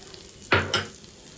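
Green chili and garlic hit hot oil in a pan for a keto prawn dish, giving two short, loud sizzling bursts close by, with no talk over them.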